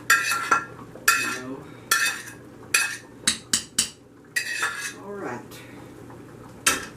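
Pots and utensils clink and scrape while vegetable soup is stirred in a pot, with sharp metallic knocks in short bursts and a low steady hum underneath.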